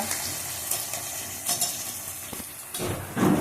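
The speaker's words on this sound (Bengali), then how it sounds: "একটুখানি জাস্ট আদা বাটাটা নেড়ে দিয়ে" Ginger paste and chopped tomatoes are stirred in a hot pan. A soft sizzle runs under intermittent scraping stirs that grow louder toward the end, with no voices.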